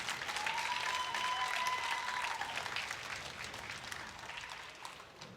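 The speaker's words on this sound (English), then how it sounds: "Let's give them all a nice round of applause for a great job in academic excellence." A school assembly audience at an eighth-grade academic awards ceremony gives a steady, moderately distant round of applause that slowly tapers off, with a faint high tone in the first half.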